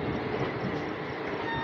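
The Shramjeevi Express, a daily superfast train between New Delhi and Rajgir, pulling into platform 1 at Bareilly Junction: a loud, steady rumble of rolling carriages with no horn.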